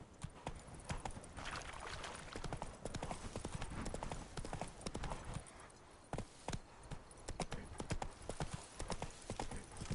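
Roach, a horse in The Witcher 3, trots with steady, rapid clip-clop hoofbeats close by, the rhythm running continuously for the whole stretch with a short lull midway.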